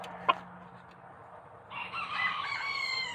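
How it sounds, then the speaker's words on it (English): A rooster on a farm crows from a distance, a faint but clear cock-a-doodle-doo rising after a brief click, heard alone over quiet outdoor background. "If you could hear that crow, that's him."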